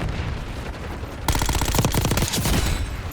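A rapid burst of automatic gunfire from a gun in Call of Duty Black Ops 6 starts abruptly after a quieter stretch, loud, close and evenly paced, with individual shots clearly separated.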